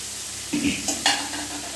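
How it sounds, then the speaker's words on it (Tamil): Fresh curry leaves hitting hot oil in a pan with a short sizzle and a couple of stirring scrapes, close and brief, no talking. "இதில் நம்ம கூட கருவேப்பிலையும் போட்டு வதக்கலாம்."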